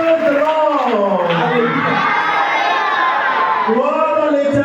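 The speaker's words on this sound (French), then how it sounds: "Exprime ta reconnaissance à Dieu par ton acclamation." A church congregation at a Sunday service cheers and shouts praise to God, a loud close wall of overlapping voices and whoops that swells and holds throughout.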